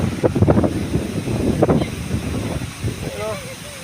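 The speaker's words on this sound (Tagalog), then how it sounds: "Alam na paparating yung hangin na malakas." Strong wind gusts across the microphone while released pigeons fly overhead, with heavy buffeting bursts in the first half that ease toward the end, where a faint bird call comes through.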